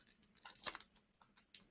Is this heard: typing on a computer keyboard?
yes